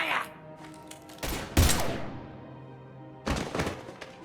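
Gunfire in Mass Effect Legendary Edition: a few loud bursts, the strongest near the middle and another toward the end, over a low hum of background game sound.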